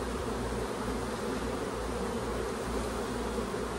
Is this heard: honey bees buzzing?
yes